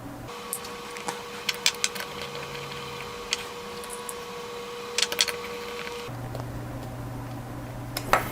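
Small screws being driven back into the rear shell of a PlayStation 4 controller (CUH-ZCT1), faint scattered ticks and clicks over a steady low hum, close and quiet with no talking.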